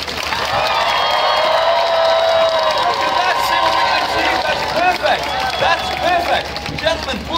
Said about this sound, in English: Really loud clapping. 10 seconds of cheering.